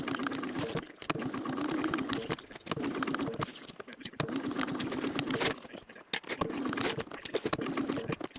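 A sewing machine bastes a backpack gusset in rapid, close, chattering runs broken by short pauses, with four or five distinct bursts of stitching.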